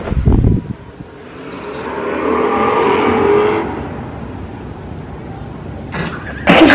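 A newly bought truck's engine rises into a revving drone in the middle, heard from nearby outdoors with some wind noise, framed by brief louder bangs and scrapes at the start and end.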